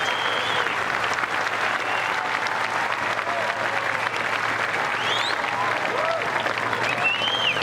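Crowd applauding steadily around the 18th green at the Open Championship golf tournament, dense continuous clapping close and loud throughout, with scattered cheers and whistles rising above it.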